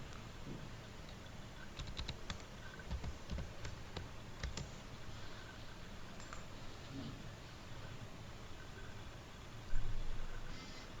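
Rapid, uneven clicking of computer keys as a username and password are typed into the e-way bill system login page, moderately close, over a steady background hum, with a louder burst near the end.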